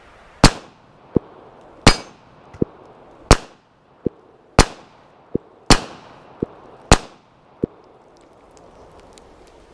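A Kel-Tec PMR-30 pistol fires about seven sharp shots at a steady, unhurried pace on a range, each crack followed by a fainter metallic ping of a target or casing, loud and close.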